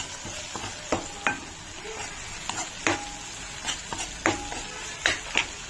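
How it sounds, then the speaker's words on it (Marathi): Red chili powder sizzling in hot ghee and oil tempering for dal khichdi, a soft steady frying hiss broken by repeated sharp clinks and scrapes of a spoon stirring the pan, close and fairly quiet, no talking. "यामध्ये लाल तिखट घालून लाल तिखट मस्त रंग आलेला आहे"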